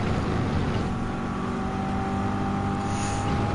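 A car engine in Gran Turismo 7 drones steadily and loudly for the whole stretch, holding a sustained tone without clear gear changes.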